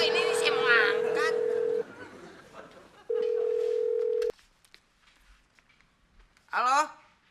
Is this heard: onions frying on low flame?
no